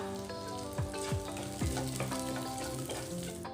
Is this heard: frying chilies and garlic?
yes